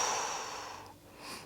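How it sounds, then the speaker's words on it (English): A person exhales through a stretch in a workout, a breathy airy rush that fades over about a second, close and fairly soft, with no talking. "Breathing out."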